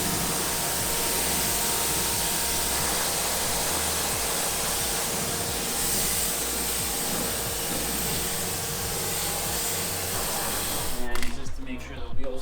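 Water spray rinsing a car wheel during a deep wheel clean, a steady loud hiss that runs almost unbroken, with a brief stutter near the end.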